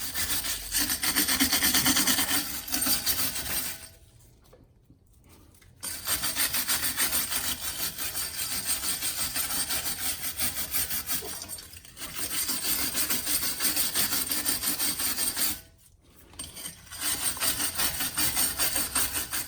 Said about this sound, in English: all this corrosion right here has got to be scrubbed off before we put the new one on